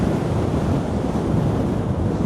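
Stormy sea surf and gusting wind roar along the Blackpool promenade under a grey sky, a loud, dense wash of crashing waves with wind buffeting the microphone throughout.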